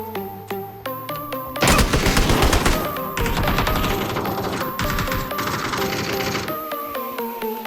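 During a competitive PUBG match, rapid gunfire erupts in dense automatic bursts over a few seconds between sparser single shots. Sharp interface blips and pings sound around the firing, and the clip is loud and close.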